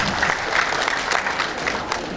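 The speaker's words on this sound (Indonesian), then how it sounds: "Tepuk tangan buat beliau." At the 2022-2027 inauguration of the KKLR East Kalimantan board, the crowd applauds the newly elected chairman: steady, moderately loud clapping from many hands, continuing throughout without a break.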